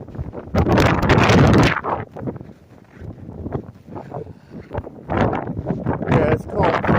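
Strong gusts of the 2022 Christmas blizzard roar loudly and close into the microphone in two heavy bursts, with a quieter lull between them and a voice speaking in the gap.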